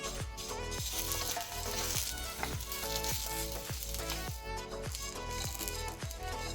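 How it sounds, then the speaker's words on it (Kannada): Coriander seeds roast over a low flame in coconut oil in a pan, a steady soft sizzle with stirring, heard beneath rhythmic background music throughout. "ಫ್ಲೇಮನ್ನು ಲೋ ಅಲ್ಲಿ ಇಟ್ಕೊಂಡು ರೋಸ್ಟ್ ಮಾಡಿ"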